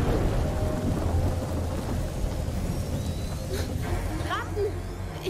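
Thunder rumbles in a stormy scene from the video game A Plague Tale: Innocence, with a steady wash of rain and low rolling booms under voices, plus a few sharper crackles late on.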